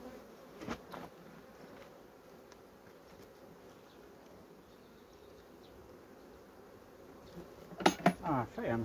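Steady low buzzing of honey bees around a hive throughout, with a few louder clattering knocks near the end.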